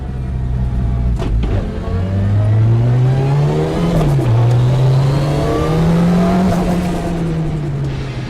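A Toyota 222D rally car engine revs hard and loud, its pitch climbing in long sweeping rises with a brief dip midway, then rising again, with no voices over it.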